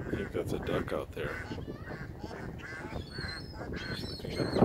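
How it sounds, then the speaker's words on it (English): Honking waterfowl calls ring out over water, several loud nasal cries in an irregular series, with a person talking nearby. "That's a duck out there."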